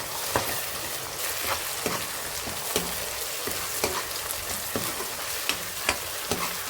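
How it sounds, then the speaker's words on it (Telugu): Mint leaves fry in hot oil with a dense, continuous sizzle, broken by sharp crackles and pops as they are stirred in the pan; no voices. "దీన్ని కాసేపు నూనెలో బాగా వేయించుకుందామండి"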